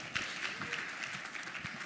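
A crowd applauds after a speech at a conference in Miami, a steady, dense clapping that holds evenly throughout at a moderate distance, with no voices on top.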